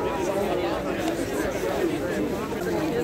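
Babble of a street protest crowd in Montreal, many overlapping voices chattering close by with scattered louder calls, a dense steady murmur throughout.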